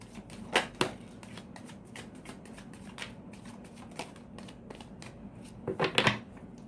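Tarot cards being shuffled and picked one by one for a reading, giving a steady close papery riffle with a few sharper flicks and snaps, and nobody speaking.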